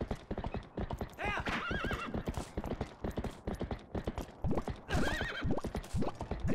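Rapid hoofbeats of a horse in the video game Zelda: Twilight Princess clatter in a steady galloping rhythm, broken by a couple of loud whinnies, close and continuous throughout.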